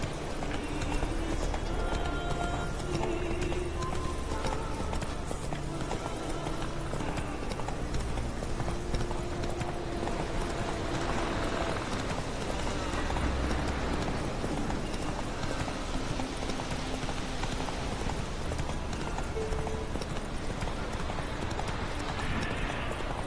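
A horse's hooves pound in a rhythmic gallop in the video game The Witcher 3, mixed with game music and ambient effects, continuous throughout.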